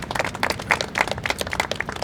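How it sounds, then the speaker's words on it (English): Audience applause at an outdoor press briefing and ribbon cutting, a dense, steady patter of many hands clapping together throughout, close and lively, with no voices over it. "So I ask that you give him another round of applause."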